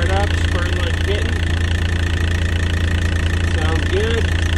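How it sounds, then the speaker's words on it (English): A Yanmar marine diesel on a 50-foot Lagoon catamaran idles steadily in its engine room just after starting, a loud, even mechanical drone with a light rattle throughout. "one little push of the button, got it fired up, spurting like a kitten"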